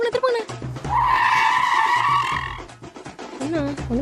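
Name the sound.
vehicle making a sharp turn, tires skidding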